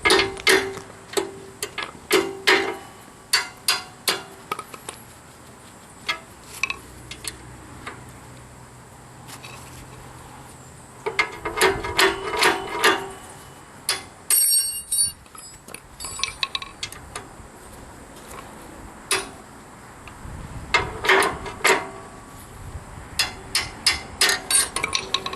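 A half-inch wrench clicks and clanks against metal while working on a New Holland 630 baler, producing bursts of sharp ratcheting ticks and knocks separated by quieter pauses, close and moderately loud.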